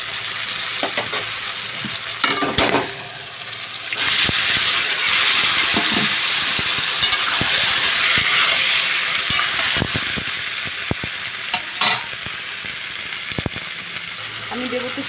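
Taro leaves going into a pan with frying onion and tomato masala, a loud sizzle that swells after the leaves land, with intermittent scraping stir clicks throughout.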